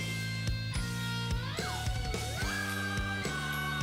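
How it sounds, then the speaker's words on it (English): A slide whistle glides down and back up within a busy music track, its pitch swooping over steady instruments and bell-like tones. "And then slide whistle right here."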